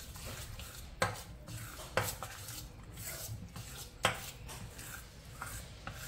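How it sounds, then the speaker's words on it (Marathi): A spoon mixing malpua batter of flour and milk in a bowl makes soft scraping and stirring with a few sharp clinks against the dish, quiet and close. "आता हे सगळं आपण छानसं मिक्स करून घेऊया।"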